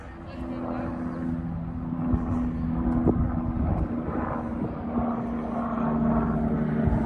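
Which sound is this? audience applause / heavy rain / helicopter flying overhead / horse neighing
helicopter flying overhead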